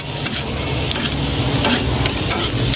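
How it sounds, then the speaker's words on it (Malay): Onions frying in hot oil at a food stall, a loud, steady sizzle with occasional scraping stirs of a utensil against the pan, close and continuous without talk. "Kita start dulu dengan goreng bawang."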